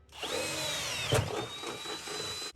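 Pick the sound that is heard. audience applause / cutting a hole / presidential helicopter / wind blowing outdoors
cutting a hole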